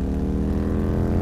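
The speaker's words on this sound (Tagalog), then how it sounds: "narinig na nga namin yung motor, Sir Seth." A motorcycle engine drones steadily and loudly for just over a second, a dense low hum with harmonic layers, holding close without clear rise or fade, used as an animated sound effect.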